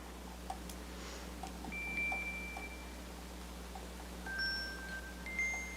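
A smartwatch sounds a few short, thin electronic notification tones, faint and spaced apart over steady room hum in a quiet meeting room.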